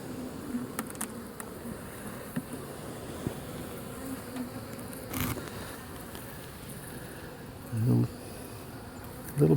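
Honey bees buzz in an open hive after a storm, a steady close hum of many insects with a few louder passes near the end and little else.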